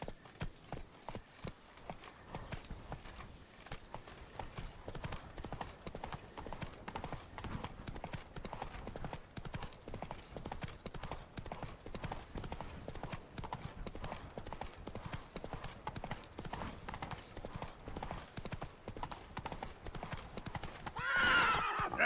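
Roach the horse gallops in The Witcher 3: Blood and Wine, rapid steady clip-clop hoofbeats running for over twenty seconds, closing with a loud burst at the end.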